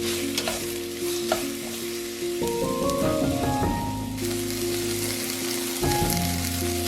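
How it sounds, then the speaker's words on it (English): Sliced onions sautéing in a pot with browned beef bits, a dense steady sizzle like light rain, with stirring scrapes and a spoon tapping the pot, near and without talk. "Sauté them until they are soft and translucent, picking up all those lovely browned bits left behind by the beef."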